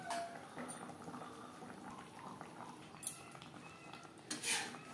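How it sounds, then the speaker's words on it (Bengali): Katla fish simmers in gravy with a faint, steady bubbling, marked by a couple of brief utensil clinks against the pot. "গ্রেভির সাথে মাছ আরও 4-5 মিনিট রান্না করব"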